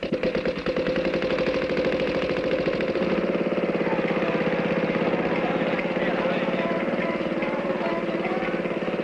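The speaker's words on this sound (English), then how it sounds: "Here comes a motorized rickshaw." A motorized rickshaw's small engine putters in a steady, rapid rattling drone, loud and close, holding constant for several seconds with no voices.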